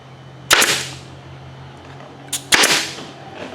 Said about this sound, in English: we're going to throw just a couple of staples